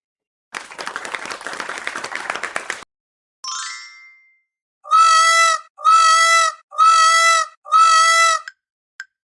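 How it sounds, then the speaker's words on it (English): A peacock gives four long, loud, piercing wails in a steady series, preceded by a burst of clapping-like noise and a bright chime. "Peacock."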